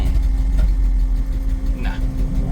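A dump truck's engine runs steadily at a low idle with a constant deep rumble while it is put in reverse, and a brief mechanical clunk comes near the end.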